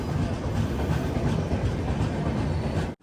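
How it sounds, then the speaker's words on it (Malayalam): The Samata Express rolls steadily into platform 5 at Rayagada station, a loud, continuous rumble of wheels and carriages that cuts off abruptly at the end. "പ്ലാറ്റ്ഫോം നമ്പർ 5 നമ്മുടെ വണ്ടി വന്നത്"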